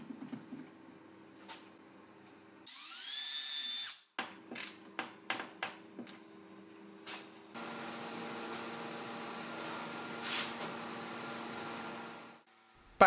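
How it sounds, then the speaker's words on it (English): Power drill boring pilot holes into an MDF cabinet, with several short whirring bursts and rising spin-ups, a few sharp clicks between them, then a longer steady whine, close and alone. "I'm drilling some pilot holes which I want to countersink so that the screws are hidden"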